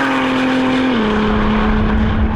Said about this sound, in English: we are going to drag race the Ford GTs